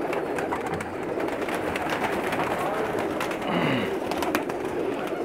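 Pakistani pigeons, a mixed flock, cooing steadily against a dense bed of bird calls and chatter, with a low throaty coo rising clearly midway.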